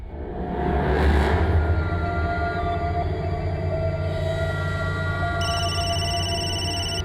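A telephone rings with a bright electronic tone near the end, over a loud, continuous low rumble.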